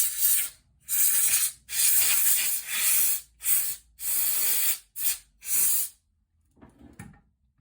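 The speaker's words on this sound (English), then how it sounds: "Just give it a bit of a spray down, a bit more brake cleaner." Brake cleaner sprays in a series of loud, hissing bursts of varying length, close up on a bicycle dropper post, followed by a quieter shuffling sound.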